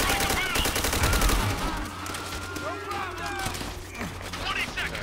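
Rapid gunfire and bursts of shooting in the Call of Duty: World at War co-op campaign, with dense, loud layered shots and explosions throughout, while a player talks over the chaotic firefight.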